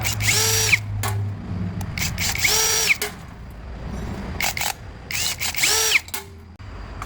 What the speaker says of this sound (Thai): ถอดน็อตต้นถ้วยคาบู ออกทั้งหมด 4 ตัวเลยนะครับ